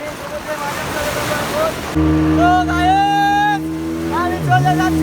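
Speedboat out on the sea at Cox's Bazar: rushing water and wind wash at first, then a close, steady motor drone with a voice speaking over it.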